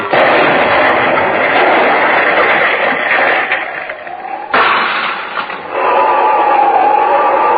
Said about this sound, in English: That is the explosion then.